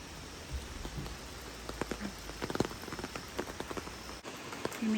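Rain falls on a wet day at Akaka Falls State Park on the Big Island, with a soft steady patter and scattered louder drips landing on nearby surfaces, heard alone without talking.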